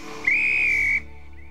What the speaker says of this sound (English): She's gonna grab the whistle.